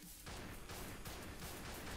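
Dense, continuous gunfire bursts from the video game Thrive Island Online: Battlegrounds Royale, loud and relentless, with overlapping shots filling the whole stretch.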